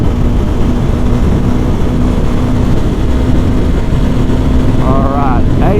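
Honda CRF Rally motorcycle engine held near 8,000 RPM at highway speed, a steady loud drone mixed with heavy wind rush, with a rider speaking briefly near the end.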